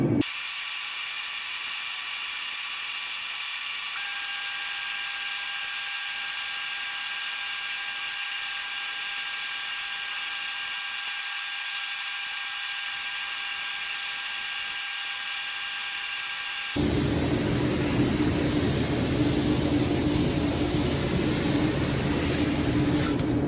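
A steady, even hiss of spray painting a Poly-Tone top coat on Kitfox aircraft wings runs for a long stretch, then shifts to a rougher, louder airy rush near the end; no voices.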